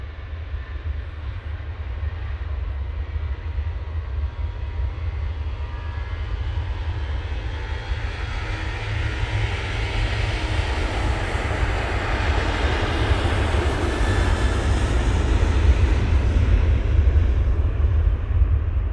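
An EasyJet airliner's jet engines roar steadily at a snowy airport, a broad continuous rumble with a heavy low end that swells louder through the second half, with no voices.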